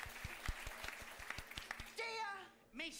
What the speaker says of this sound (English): you're going to give him a huge round of applause